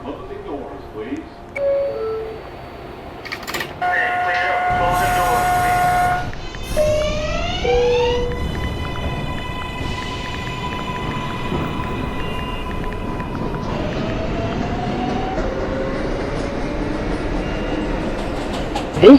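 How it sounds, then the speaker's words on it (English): A Manhattan-bound New York subway 7 express train, heard from inside as it runs toward 43rd Street, with loud, steady rumble and rising and falling tonal whines of the motors, plus a brief chime and the closing-door announcement tone. "This is a Manhattan-bound 7 express train."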